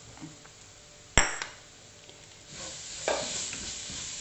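Spices and small tomatoes fry softly in a pan for Kerala-style beef, with a sharp clink of a spoon against the pan and then a light sizzle as it is stirred.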